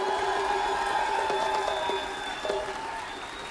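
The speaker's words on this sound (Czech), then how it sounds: "Dámy a pánové, prosím, velký potlesk pro Mirku Miškechovou!" Audience applause and cheering for a performer on an acoustic stage, a steady wash of clapping from a crowd that slowly thins out, with a faint sustained tone and brief voices beneath it.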